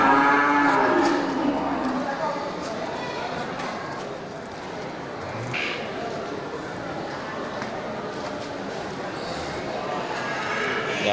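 Aceh cattle, cows with their calves, moo at a busy livestock market. Several low bellows stand out over a steady murmur of crowd and market noise.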